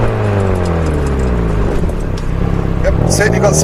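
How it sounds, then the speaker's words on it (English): A Subaru Impreza STi S204 brakes hard on a test drive. Its loud engine drone winds down in pitch as the car slows, with a faint voice in the background. "And it's going to try the brakes."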